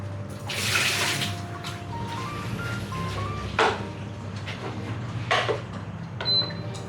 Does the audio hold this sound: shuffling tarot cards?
no